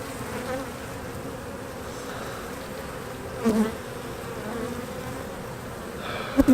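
Bees buzz steadily around an opened hive during a spring inspection, a close continuous drone with a few louder passes near the microphone and brief handling knocks.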